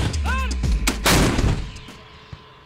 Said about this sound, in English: We shot 2 rockets.